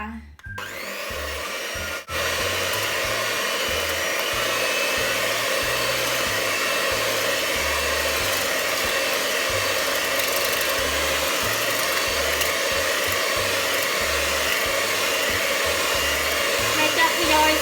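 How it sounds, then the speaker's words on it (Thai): An electric hand mixer whips cream for strawberry mochi, a steady loud motor whir running continuously after a brief start, close and alone without talk. "มาเริ่มต้นปั่นครีมกันค่ะแม่ใส่วิปปิ้งครีมลงไปเนาะ มาเริ่มปั่นกันเลยค่ะ"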